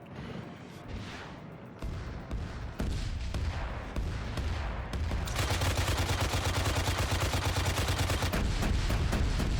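A Hind attack helicopter opens fire in Arma 3: scattered heavy booms give way to a sustained, loud, rapid stream of cannon fire that grows denser and louder toward the end.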